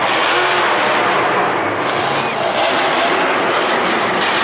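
The Gunslinger monster truck popping a sky wheelie at a Monster Jam stadium show, a loud, continuous roaring engine blending with heavy crowd and arena noise, with commentary over it.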